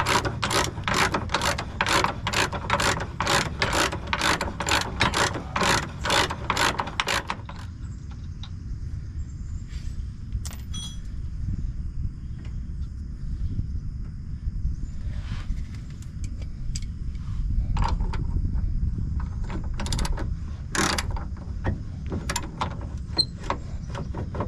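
A ratchet works loose track arm bracket bolts on a Jeep XJ, with about seven seconds of fast, even, close clicking. A steady low rumble follows, broken by a few scattered metallic knocks.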